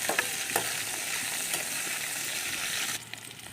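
Okra sizzles loudly in hot oil in a pan while being stirred, a dense continuous crackling hiss with occasional scraping taps, easing off sharply near the end.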